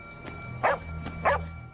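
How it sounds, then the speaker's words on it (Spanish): A dog barks twice, each a loud and fairly close bark with a short gap between them, over a low steady background hum. "Su perra solía ser muy tranquila, pero en ese momento se volvió loca. Empezó a ladrar"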